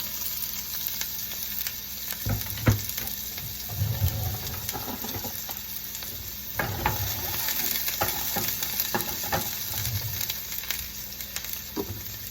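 Onions frying in extra virgin olive oil, with a steady close sizzle and crackle and occasional stirring scrapes and thumps on top, no talking.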